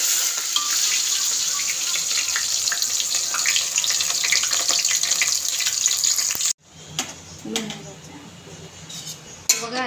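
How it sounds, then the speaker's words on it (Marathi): Sliced onions sizzle and crackle steadily in hot oil for chicken biryani, a dense close frying hiss that cuts off abruptly, followed by quieter clinks of utensils and pans. "तेलामध्ये बघा आता आपण हे कांदे जे आहेत ते फ्राय करून घ्यायचे."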